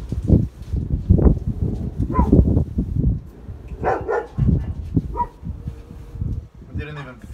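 A dog whimpers and moans in a veterinary setting while a needle is used on it. The cries are close and uneven, and people talk over them throughout.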